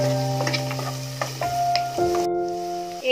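Chopped tomato drops into a pan of reddened onions, setting off a steady sizzle broken by soft stirring clicks and scrapes. The frying sounds close and continuous, with a faint tonal hum underneath and no voices.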